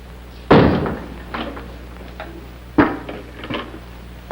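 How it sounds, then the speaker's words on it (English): A door swung shut in an office during an old film scene, a solid thud followed by a second heavier closing knock a couple of seconds later, with smaller taps and shuffles between. "Close that door."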